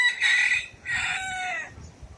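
A rooster crows close by, a bright call broken into two strong stretches, with the second drawn out and tailing off, in a quiet outdoor setting.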